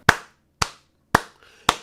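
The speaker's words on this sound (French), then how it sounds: "mais bravo Asterion, ça mérite des applaudissements." Four sharp hand claps spaced about half a second apart, loud and close, with no talking.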